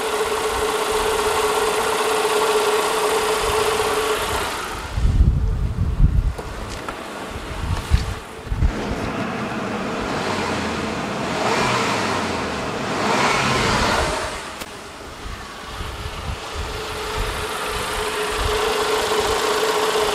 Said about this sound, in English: Rev engine with loads on.